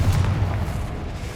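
A Confringo explosion spell cast in the video game Hogwarts Legacy, a single loud, deep boom that rumbles and fades out over about a second.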